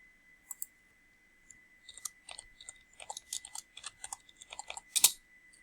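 Typing on a computer keyboard while entering data into a spreadsheet: quick irregular bursts of close, crisp key clicks over a faint steady hum, with no voices.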